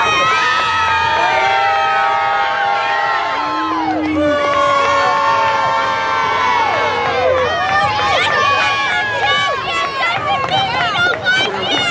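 A large crowd at a pro wrestling event roars and cheers continuously with shouts, whoops and whistles rising over one another, loud and sustained throughout.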